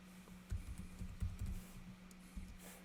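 Keys clatter on a computer keyboard in a short, irregular burst of soft, close taps, a few clustered presses with brief pauses between them, heard alone in a quiet room.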